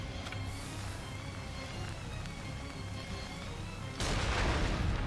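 A cannon fires in the video game Nioh: a low rumbling bed gives way to a sudden loud, broad burst near the end that stays heavy as it rolls on.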